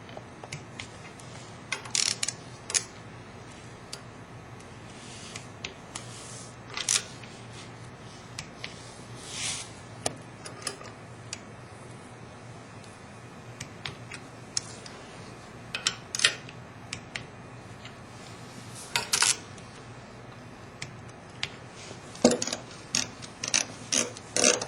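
Ratcheting clicks from a torque wrench tightening bolts on an OPTISEP 800 holder, in short bursts of clicks separated by quiet pauses, close and fairly quiet with no talking.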